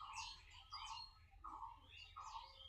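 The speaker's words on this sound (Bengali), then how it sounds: "পিছনে কিন্তু পাখিতে ডাকছে।" Several birds call and chirp from a market area behind, repeated bright bursts of song over a low steady background hum, moderately close and clear with no talking.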